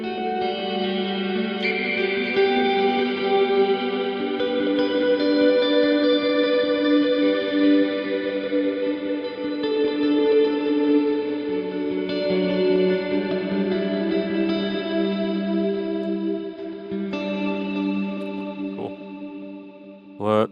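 A synth preset in Logic rings out in sustained, shimmering chords with heavy reverb and chorus-like wash, loud and continuous, with a brief click near the end.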